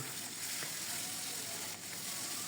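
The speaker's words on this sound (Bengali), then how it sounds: "আমি মাছগুলো আমি প্যানে তেল দিয়ে একটু লাল করে ভেজে নেব" Pangas fish fries in hot oil in a pan, giving a steady, dense sizzle with fine crackling, close and even throughout, with no talking.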